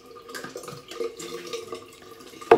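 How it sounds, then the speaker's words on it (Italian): Tap water runs steadily into a bathroom sink during a rinse after shaving, with soft splashing and dripping at a close, moderate level and a sharper splash right at the end. "Ora chiudiamo l'acqua"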